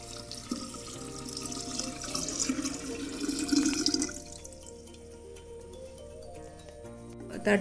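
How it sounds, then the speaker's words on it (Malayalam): Boiled, cooled water poured over bananas for homemade banana wine, a steady close splashing stream for about four seconds that then thins to a quieter trickle and drips, with soft clunks at the end. "വെള്ളം തിളപ്പിച്ചാറ്റിയാണ്, നമുക്കിനി അത് ഒഴിച്ചു കൊടുക്കാം"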